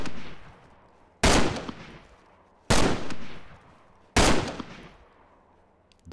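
Gun firing in the DayZ video game: three loud, separate shots a bit more than a second apart, each a sharp crack followed by a long, echoing decay.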